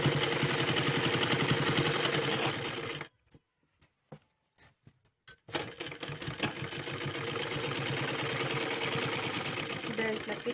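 A sewing machine stitches a salwar belt in fast, rhythmic bursts, stops for a stretch of brief isolated clicks, then resumes its steady running stitch at close range.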